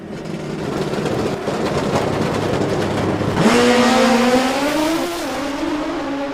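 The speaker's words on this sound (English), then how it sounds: "Big nitrous bike on the inside." Nitrous-fed old-school Suzuki GS drag racing motorcycle at a drag strip event, a loud engine roaring and revving on the inside lane, its pitch climbing in a sustained high wail over steady crowd and track noise.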